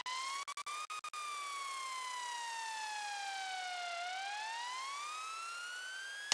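An electronic riser effect for a music build: a loud, bright, siren-like tonal sweep first glides slowly downward, then climbs steadily upward, alone with no voices after a few quick stutters at the start.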